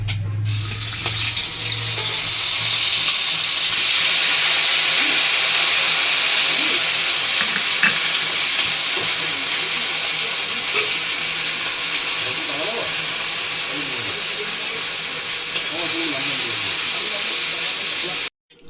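Ginger and cumin paste, green chili paste and grated tomato hit hot oil for a fish curry, raising a loud, continuous close-up sizzle and hiss that holds steady for nearly twenty seconds before stopping abruptly.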